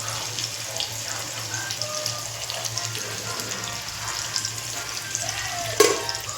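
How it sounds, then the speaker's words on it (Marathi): Catla fish frying in oil in a pan, giving a steady, even sizzle that runs throughout, with one brief sharp clatter near the end. "फिश फ्राय करून घेते थोडी"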